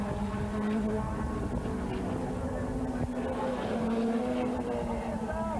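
A Nissan Open Fortuna race car at Albacete, 1998, works through a chicane, its engine note holding a steady, loud drone that dips and climbs with the gear changes, with a commentator talking over it.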